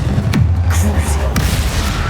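Confringo fire spell exploding in the video game Hogwarts Legacy: a deep booming blast with rumbling low end and crackling bursts, loud and close, with a voice calling out over it.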